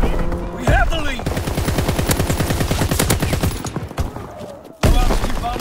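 Sustained rapid machine-gun fire from a video game killstreak strafing run rattles loud and dense for several seconds, a steady burst of repeated shots with brief breaks and heavy thuds near the end, with a voice speaking over it.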